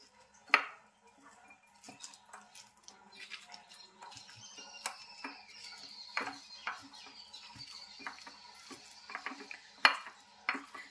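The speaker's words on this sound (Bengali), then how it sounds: "এক চামচ সরষের তেল দিচ্ছি। খুব ভালো করে মেখে নিচ্ছি।" Pointed gourd being mixed by hand with a spoonful of mustard oil in a bowl, giving soft, uneven squelching and scraping with occasional sharp clinks against the dish, close and fairly quiet.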